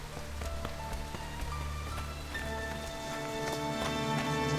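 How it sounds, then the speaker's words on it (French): Heavy rain pours continuously at an outdoor Joan of Arc spectacle, a thick constant patter of drops on surfaces, building slightly louder toward the end. "Il pleut trop fort."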